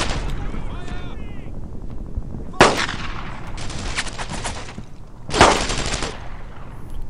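Gunfire in the video game Brothers In Arms: Earned In Blood, two loud, close bursts of automatic fire each lasting about a second, over a steady background rumble.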